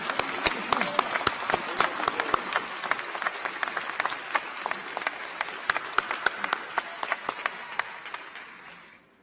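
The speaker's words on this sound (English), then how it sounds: "let's all give John Pierre, the Chancellor of the Law Center, a round of applause" Audience applause for Chancellor John Pierre at a law center commencement, a sustained crowd clapping with crisp individual claps standing out, steady and fairly close before tapering off at the end.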